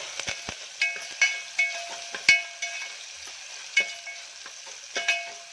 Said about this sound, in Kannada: ಈಗ ಚೆನ್ನಾಗಿ ಫ್ರೈ ಮಾಡ್ಕೊಳ್ಳೋಣ